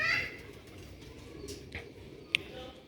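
A female Sialkoti Ali pigeon coos softly and close by, low murmuring coos over quiet background noise with a brief sharp click near the end.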